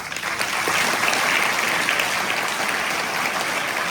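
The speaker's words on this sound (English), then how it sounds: "let's give them a round of applause" An audience applauds mothers at a school Mother's Day tribute, with continuous clapping from many hands at an even, moderate loudness for a few seconds.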